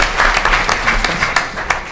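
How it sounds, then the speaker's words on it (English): An audience at a hip hop and politics panel discussion breaks into loud, dense applause, a continuous close clatter of many hands with no clear speech. "Let's give her a round of applause."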